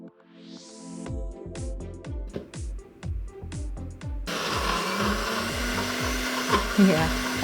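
A kitchen blender whirs as it works pesto with olive oil, the motor note shifting and rising steadily, loud and close throughout with rhythmic low pulses as the mixture churns.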